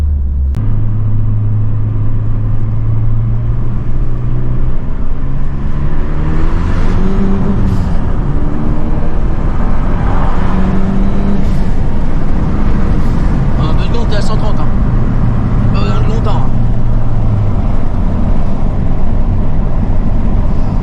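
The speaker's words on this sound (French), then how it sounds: "Donc par exemple toi là je vais accélérer. Voilà ce que ça donne." A Renault Mégane 3 RS Cup engine builds revs with a deep, rumbling tone that rises and falls, heard close and loud under someone talking throughout.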